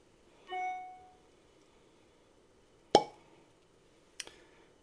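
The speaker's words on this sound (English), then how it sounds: "And we'll go ahead and pop the cork here." A cork is pulled from a bottle of Cream of Kentucky Rye whiskey, giving one soft suction pop. Two sharp clicks follow, about a second apart, in an otherwise quiet room.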